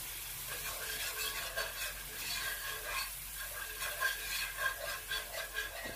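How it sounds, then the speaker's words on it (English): A whisk works chicken broth and heavy whipping cream together in a pan for a Cajun seafood stuffing. The result is a soft, continuous bubbling and swishing with a faint sizzle, steady and fairly quiet. "get your whisk out, because you're going to need to whisk this"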